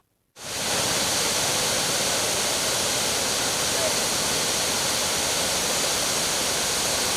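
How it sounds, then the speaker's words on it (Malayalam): Cheeyappara waterfall pours in a constant, loud, full-bodied roar of rushing water that starts abruptly and holds steady, with no other sounds standing out. "ചേപ്പാറ വെള്ളച്ചാട്ടം ഇങ്ങനെ മനോഹരമായി ഒഴുകിക്കൊണ്ടിരുന്നു"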